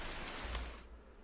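Rain falls in Farming Simulator 19 as a steady, dense broadband hiss, fairly close, with no voices, thinning out abruptly near the end of the short stretch.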